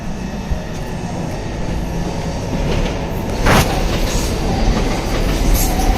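A passenger train from Stockholm to Uppsala in Sweden heard from the inside, a loud continuous rumble with rhythmic clatter of the wheels and a brief louder rush midway.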